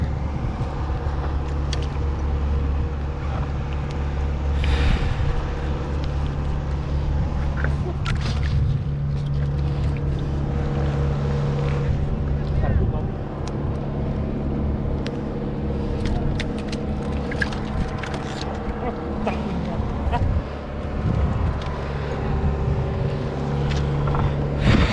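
Motorboat engine approaching on open water during a fishing trip, a steady low droning hum with faint tonal harmonics, persisting at moderate level with occasional knocks and brief voices.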